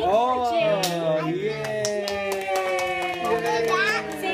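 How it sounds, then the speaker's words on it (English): Children cheer and clap together at a toddler's second birthday, a busy cluster of high young voices with scattered handclaps, close and lively throughout. "Thanks for cheering."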